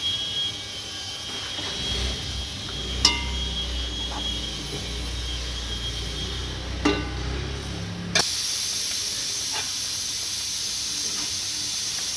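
Pabda fish curry with mustard-poppy paste simmering in a pan, giving a steady soft hiss and bubbling throughout with a couple of brief clinks, no talk.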